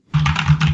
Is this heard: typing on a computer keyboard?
yes